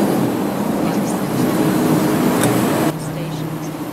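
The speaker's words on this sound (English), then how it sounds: "The train is now arriving." A train pulls into a station, its low rumble and rolling rail noise steady and close before dropping off sharply near the end as it comes to a stop, with faint voices mixed in.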